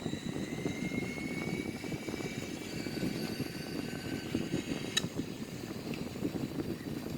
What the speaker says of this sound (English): here we are, landing safely, reverse thrust and parking brake